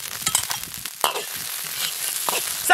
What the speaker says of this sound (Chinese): 炒香来点配菜。